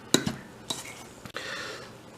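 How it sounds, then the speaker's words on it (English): Fork clinking and scraping against a bowl while mixing wet tea-biscuit dough, a few sharp taps followed by a softer continuous stirring scrape, close and fairly quiet. "use this fork to mix some of this together"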